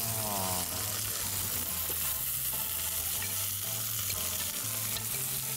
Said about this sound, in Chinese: 我而家就落埋個漿落去啦